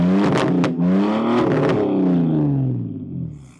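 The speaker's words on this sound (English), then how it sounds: "the BMW is straight pipe" Straight-piped BMW Z4 engine revving loudly up close, a raw rasping blip that climbs and then slowly falls away, with no talking.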